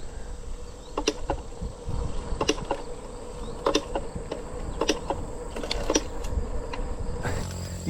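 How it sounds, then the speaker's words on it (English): Bees buzzing among yellow wildflowers along an outdoor trail, with repeated brief close passes rising over a steady low hum of background noise. "There's definitely some like honeybees on there or something like that, whatever they are."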